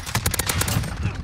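An M91 machine gun is fired from the hip in a first-person shooter on the Shipment map, a rapid, loud, continuous burst of close gunshots lasting the whole moment.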